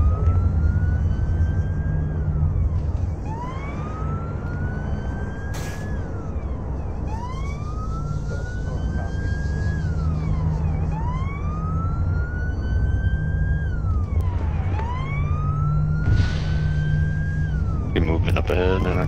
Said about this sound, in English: Oh, we do have sirens on.